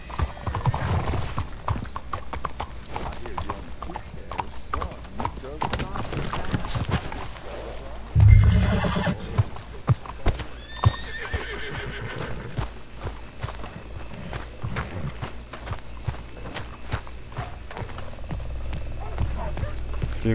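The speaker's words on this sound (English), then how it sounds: "Let's hitch your horses up ahead." Horse hooves clip-clop steadily at a trot in Red Dead Redemption 2, with a horse whinnying partway through, over the game soundtrack and occasional speech.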